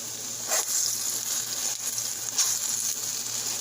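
Ripe plantains fry in a pan with a steady, close hiss of hot oil, broken by a couple of brief louder spatters.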